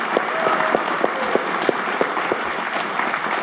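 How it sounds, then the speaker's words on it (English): An audience at a Fidelity event applauds investor Peter Lynch, a thick continuous roar of clapping from a large crowd with a few sharper nearby claps standing out from the mass. "How about a round of applause for Peter Lynch, ladies and gentlemen?"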